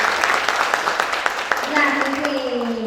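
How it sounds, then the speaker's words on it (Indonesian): An audience at a kethoprak theatre event in Jogja claps steadily, a dense patter of hands that tapers while an announcer's voice continues over it. "Boleh tepuk tangan sekali lagi buat Mbak sendiri."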